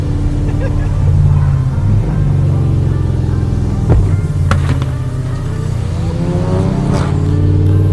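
A loud Porsche GT3 engine droning and revving, with a few sharp exhaust backfire pops cracking through, and voices talking underneath.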